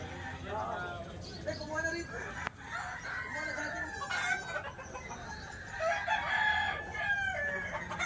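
A gamecock bullstag crows several times at close range, with the long, rising and falling calls repeating over faint background noise.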